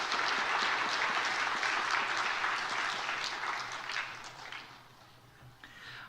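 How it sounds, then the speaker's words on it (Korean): Church congregation applauding in celebration at a Sunday worship service, a dense sustained wash of many hands clapping that stays loud for several seconds, then gradually thins and fades toward the end. "박수로 축하하겠습니다."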